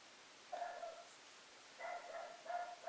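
Dogs bark and yip in a few short bursts from some distance indoors, faint and muffled, separated by quiet pauses.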